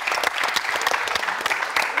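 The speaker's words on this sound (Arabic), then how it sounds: "حب تصفيقة كبيرة برشا على ريم الزريبي" Audience clapping for Rim Zribi on a Tunisian game show, dense steady applause from a studio crowd, loud and continuous throughout.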